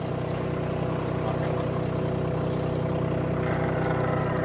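A Mustang with a newly installed transmission drives along, its engine droning steadily at a low, even pitch for several seconds with no talk over it.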